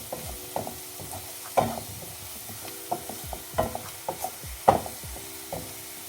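Ground spice powders fry with onions in a pan at a low, soft sizzle, punctuated by repeated scrapes and taps of a spoon stirring at an uneven pace.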